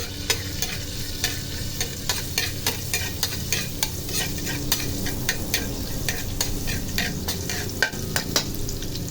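Ginger fries in oil in a frying pan, a steady sizzle under regular sharp clicks and scrapes from a utensil stirring against the pan, close up and with no talking.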